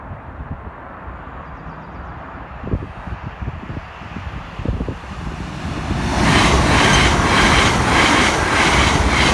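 An IEP train passes the Church Lane level crossing. A low rumble builds, then at the end the train roars by close and loud with a rhythmic clatter of wheels.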